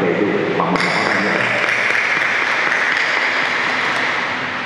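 A hall full of attendees at a Catholic elders' gathering in Xuân Lộc diocese gives a sustained round of applause, a thick continuous clapping that swells in after a brief voice and holds steadily.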